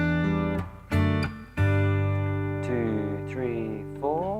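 Electric guitar with effects plays the intro of a song: sustained, ringing notes and chords that change every second or so, close and clear with no voices.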